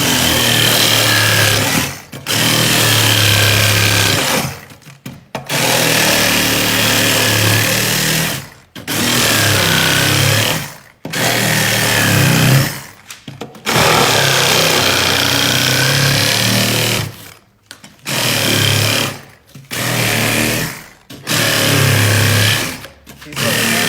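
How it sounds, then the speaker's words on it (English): A small handheld reciprocating saw roughs out expanded foam scenery. It runs in loud, close, buzzing bursts of a few seconds each, separated by short pauses across the whole stretch. "these little handheld sawzalls work really well to get started"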